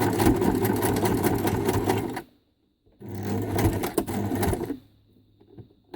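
An old, well-worn home sewing machine runs in two bursts of steady rattling stitching, a short silent pause between them, then a quieter tail, close and alone with no talking.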